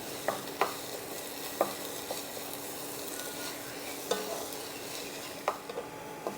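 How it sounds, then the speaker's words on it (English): Garlic and onion fry in a pan for beef goulash, a low constant sizzle broken by several sharp clicks of a spoon stirring against the pan, close and moderately quiet. "stir this in and let it kind of cook up for about a minute"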